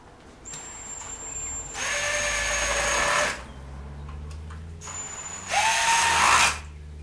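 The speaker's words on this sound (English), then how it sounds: "Grab the drill." A power drill driving screws into a TV unit whirs in two bursts, each spinning up and running for a second or more, separated by a quieter pause with faint handling noise.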